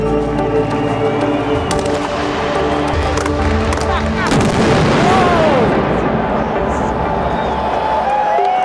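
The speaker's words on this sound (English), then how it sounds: "We had a little surprise at the end, full blackout and 100k of fireworks." Fireworks burst in a dense, continuous barrage over a packed stadium after a full blackout at a drifting event, with booming cracks and crackles layered over a roaring crowd.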